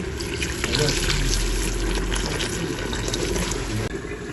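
Water pours steadily into a cooking pot for chickpeas, a continuous close splashing rush that lasts a few seconds.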